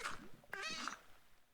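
A cat in the video game Minecraft lets out a couple of short, faint meows, the second rising and wavering, heard alone against a quiet background.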